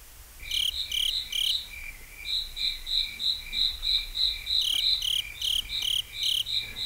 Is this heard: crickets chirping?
yes